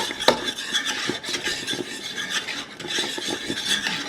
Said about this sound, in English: you wanna whisk that in really well and stir it continuously for the whole 60 seconds